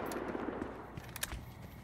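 Automatic gunfire rattles in quick bursts from a gun in the video game Battlefield Hardline, a dense stream of sharp, close shots with a few louder cracks standing out.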